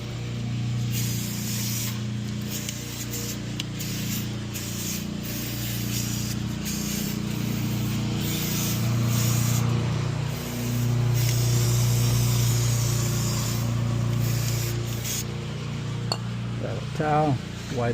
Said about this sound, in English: little brake fluid, brake cleaner. I'm just going to clean up this area.